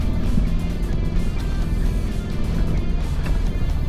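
A 4WD vehicle on low tyre pressure driving with momentum through deep sand on an outback track in Victoria, a loud continuous engine roar and rumble throughout, no talk.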